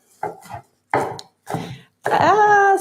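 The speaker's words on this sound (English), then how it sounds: "So I'm just going to chop this." A knife chops herbs and vegetables for a cauliflower salad on a board, giving a few quick, close chopping strokes in a row, followed by a brief tonal scraping or ringing sound.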